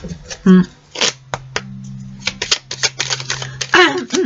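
Tarot cards are shuffled and drawn, giving a string of close, sharp flicks and riffling snaps in quick irregular bursts, with a voice speaking briefly in between.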